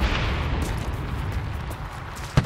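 Bomber attack explosions in the WWII shooter Enlisted, heard as a continuous low, rumbling barrage with a sharp close blast near the end, loud and dense throughout.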